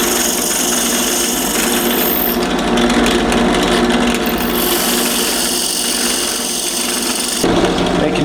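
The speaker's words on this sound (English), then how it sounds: "Just drilling out the plate holes for the screws." A power drill bores out holes in a metal mounting plate for larger screws, a steady, loud whirring grind that holds for several seconds and then shifts pitch near the end, with no talking.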